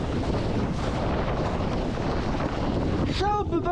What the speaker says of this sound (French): Ah il y a une rafale.